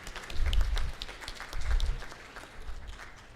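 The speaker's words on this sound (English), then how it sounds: "Please, a big round of applause." An audience at a national health workshop applauds in two soft swells of clapping, a modest, fairly distant round that rises and fades twice.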